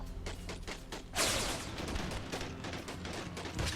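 Rifle volley from US cavalry troops in a Plains Indians war video game, a loud burst of overlapping gunshots erupting after scattered earlier shots, then rolling battle noise with another crack near the end.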